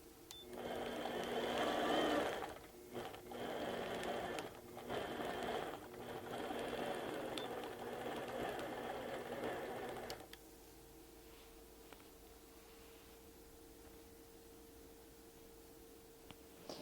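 A sewing machine stitches in several loud, close bursts with brief pauses between them, then stops and leaves quiet room tone with a faint hum.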